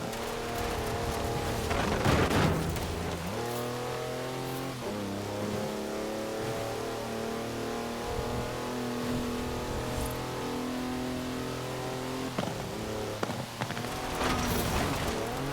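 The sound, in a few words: 4-wheel drive car on mud tyres drifting, Forza Horizon 4 video game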